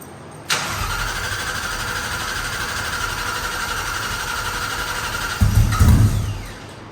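Starter cranks steadily and loudly on a Factory Five Type 65 Coupe engine at its first start, a continuous whirring drone for several seconds, then the engine catches with a deeper rumbling burst before fading.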